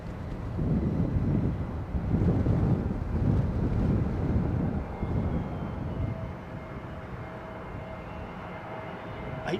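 An aircraft comes in to land in gusty, blustery wind, heard as a low continuous roar mixed with buffeting wind noise on the microphone, swelling in the first half and easing off toward the end, with no talking.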